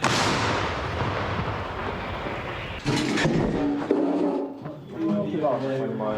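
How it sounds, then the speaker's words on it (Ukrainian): A powerful artillery gun fires at a frontline position in Ukraine with a heavy boom and a long rolling rumble, and further loud blasts follow with noisy echoes. "Гармата, постріл!"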